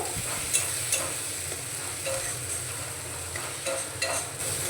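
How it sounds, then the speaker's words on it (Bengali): A spoon scrapes and stirs ground pepper and coriander powder in a frying pan over a steady low sizzle, with soft periodic clinks and scrapes close by, and no one talking. "গোলমরিচ গুঁড়ো আর ধনে গুঁড়ো দিয়ে একটু নাড়াচাড়া করে নিয়েছি"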